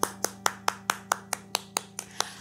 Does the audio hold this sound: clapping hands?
yes